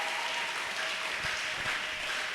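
A church congregation claps steadily throughout, a dense, close wash of applause without pause.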